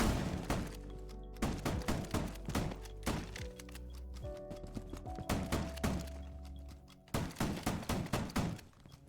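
Bursts of gunfire in Rainbow Six Siege as shots punch holes through a floor on the Consulate map, loud sharp cracks in rapid clusters with brief pauses between volleys.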